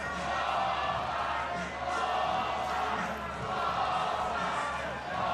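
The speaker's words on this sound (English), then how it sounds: "This crowd is trying to psych out Bachman. She's throwing 4 straight pitches out of the zone. You can hear them chanting ball 5." Softball crowd at a Texas A&M vs Liberty Final-8 college game chanting in steady unison at a pitcher, a dense, loud wash of massed voices that stays full for the whole stretch.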